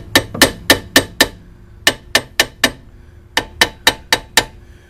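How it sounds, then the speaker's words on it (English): A hammer taps around a rusty, stuck brake drum with a puller attached, giving sharp metallic strikes close by, about fifteen hits in quick bursts of four or five separated by short pauses. "when you're using the puller, you want to tap all around here"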